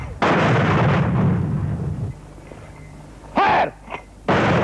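Loud artillery gunfire booming after a shouted order to fire in a wartime firing position near Bangladesh, a long heavy blast followed by two sharp reports and another blast, each close and dominant.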